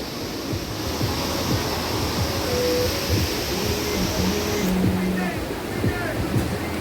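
Sea waves at Digha beach roll in as a steady broadband wash with wind buffeting the microphone, heard from a raised seating area facing the sea.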